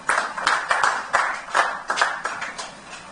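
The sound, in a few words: audience applause for Rotary clubs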